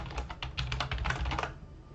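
Rapid typing on a computer keyboard, a dense run of close, sharp key clicks for about a second and a half before trailing off, alone with no talk.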